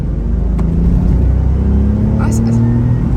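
A car engine rumbles and revs as the driver accelerates, a loud low drone that rises in pitch over a few seconds, with people talking quietly over it.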